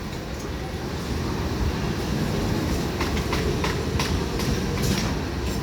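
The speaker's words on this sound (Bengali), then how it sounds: "ডাউন লোকাল ট্রেনটি হুগলি রেলওয়ে স্টেশন অভিমুখে যাচ্ছে।" A down local passenger train in eastern India running toward Hooghly railway station, a loud continuous rumble with rhythmic wheel clatter building toward the end, heard close by.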